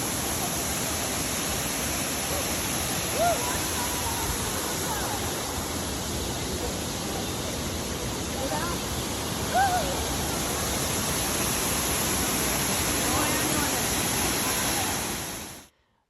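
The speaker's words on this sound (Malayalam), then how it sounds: "ഇതാണ് മിലാമില വാട്ടർഫോൾ, ഒരു അടിപൊളി വെള്ളച്ചാട്ടം." Millaa Millaa waterfall gives a steady, broad roar of rushing, falling water that fills the whole scene evenly and stays constant before cutting off at the end.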